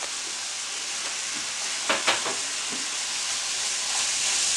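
Potatoes, tomato and green onion sizzling together in a pan for masala beef steak, a steady close hiss with a few brief clanks partway through and no voices.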